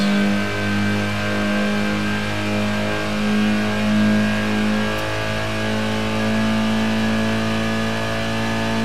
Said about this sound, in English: the only noise you're really getting on this game is your car. I mean, we've got the engine and exhaust